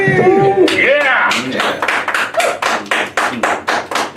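Applause follows a vow renewal ceremony at a small Las Vegas chapel. A few people clap in sharp, separate, rhythmic claps rather than a dense roar, and cheerful voices are heard at the start.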